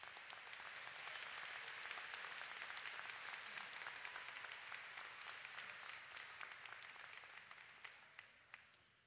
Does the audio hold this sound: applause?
yes